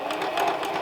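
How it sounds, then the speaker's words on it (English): A Singer Heavy Duty 4411 sewing machine stitches a seam through a scrap of fabric, a steady close whirring hum that runs evenly through the short moment without any speech. "Now I got a scrap piece of fabric, so let's sew a seam."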